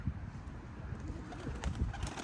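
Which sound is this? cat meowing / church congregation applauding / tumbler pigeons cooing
tumbler pigeons cooing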